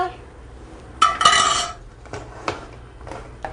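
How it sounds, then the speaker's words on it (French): A metal lid closing on a cooking pot (marmite) in a home kitchen, with a bright clattering clank followed by a few lighter metallic clinks and taps, close and fairly loud. "Juste après ça, juste refermer notre marmite."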